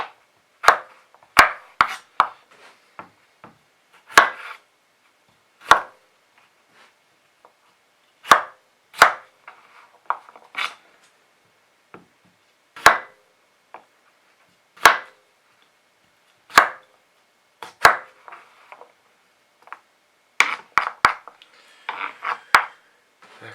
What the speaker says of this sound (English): I'm just going to chop the new potatoes